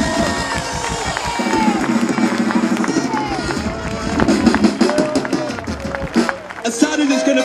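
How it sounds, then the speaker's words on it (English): An audience at a live local concert claps and cheers continuously for several seconds, a dense near crowd sound with whoops rising and falling under it. "So can we get one last big round of applause for Kim before he plays his last ever song"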